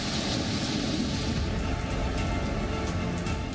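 Heavy monsoon rain pours down in Himachal Pradesh, a dense, steady roaring hiss of downpour on surfaces with no breaks, loud and continuous throughout.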